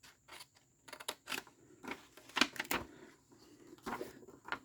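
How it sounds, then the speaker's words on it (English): Scissors making a diagonal cut in card for a custom handmade card, several soft close snips and rustles of paper in quick succession, quiet with no talk. "Make a little diagonal cut here."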